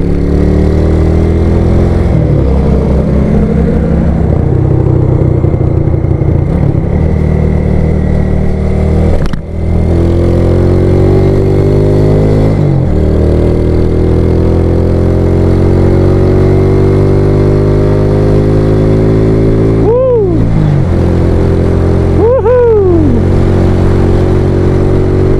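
Motorcycle engine with a spec 57 block and cam, running steadily nearby, with a few revs rising and falling near the end.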